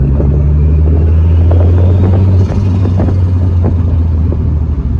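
A VR6 turbo-swapped Toyota MR2 Roadster engine lugs along in fifth gear at low speed, a loud, steady low-pitched droning rumble from inside the car that holds constant throughout.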